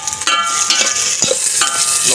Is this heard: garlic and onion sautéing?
yes